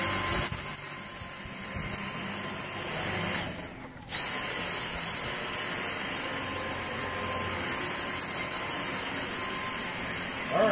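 A Dyson DC59 Motorhead cordless stick vacuum runs continuously with a steady, loud motor whine and whoosh, briefly dipping around the middle before resuming at full strength.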